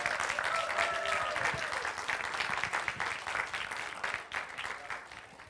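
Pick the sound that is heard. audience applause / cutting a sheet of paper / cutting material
audience applause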